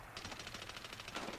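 Rapid automatic gunfire in the video game Medal of Honor Warfighter, a fast even burst of shots with no voices over it.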